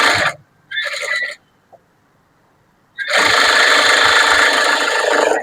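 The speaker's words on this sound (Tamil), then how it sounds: "ஒரு தையல் போட்டாச்சு." A sewing machine stitches a blouse front piece in short bursts: a quick run, a second brief run, a pause, then a longer loud steady whir close by.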